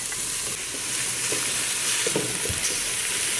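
Meat sizzling in a hot pan on medium-high heat for a cooking dish, a steady loud hiss of frying with faint scattered pops and no voices.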